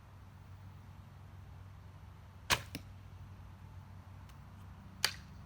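An arrow released from a black hunter longbow gives a sharp, brief thwack, followed seconds later by a second similar snap, both faint against a steady outdoor hiss with no talking.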